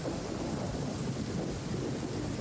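A thunder and lightning storm in the video game Genshin Impact, with a dense, continuous rumble of thunder and heavy rain roaring evenly throughout, loud and unbroken with no voices.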